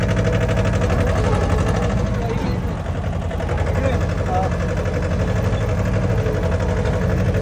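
A tractor with a trolley hitched idles steadily nearby, a continuous low rumbling engine drone with a constant pulsing throb and no change in pace, on the road during a trip to Shegaon.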